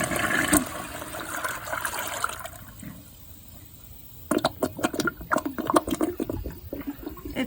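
Brand-new 2023 Project Source Pro toilet flushing with a washcloth and a grocery bag in the bowl: a loud rushing flush at first, easing to a quieter lull, then a burst of gurgling, sputtering refill water.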